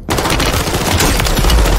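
Rapid video game gunfire, a dense burst of loud close shots firing continuously for under two seconds with no pauses.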